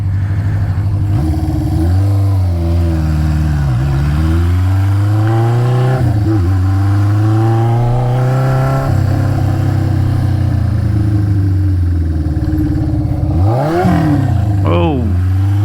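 A 1976 Honda CB550F inline-four motorcycle engine drones loudly and close while being ridden, its pitch rising and falling through gear changes, with a sharp dip and rev around a downshift near the end.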